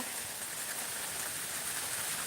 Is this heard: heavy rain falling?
yes